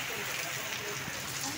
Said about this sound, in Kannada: ಈ ತರ ಮಳೆ ಬೀಳ್ತಿದೆ ಬೆಂಗಳೂರಲ್ಲಿ ನೋಡಿ